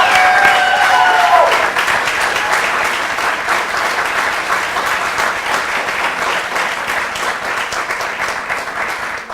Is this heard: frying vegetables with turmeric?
no